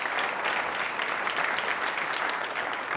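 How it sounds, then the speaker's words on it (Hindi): Loud, sustained applause from a studio audience at a televised Independence Day quiz show, dense clapping running steadily for the whole stretch. "तालियां एक बल्कि जोरदार हो जाए"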